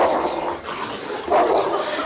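A pet dog barks in a classic TV sitcom scene, giving two loud, close barks in quick succession with no talking.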